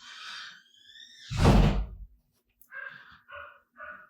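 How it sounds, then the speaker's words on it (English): A door slams with a heavy, booming thud in the middle, set between brief breathy vocal sounds, fairly close and loud. "Sorry for the door slamming noise."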